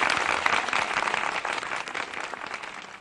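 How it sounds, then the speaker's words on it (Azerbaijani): A studio audience at the Alem Ailem quiz show final gives the Mehdizadə family a sustained round of clapping that starts strong and slowly fades toward the end. "Mehdizadələr ailəsi üçün alqışlayaq"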